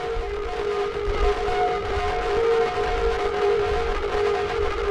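A Qu-Bit Nautilus delay module running in fade delay mode gives out sustained, droning tones with steady pitched lines over a hissing wash, constant and even in level throughout.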